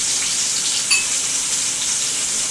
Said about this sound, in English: Go ahead and place your onions in there.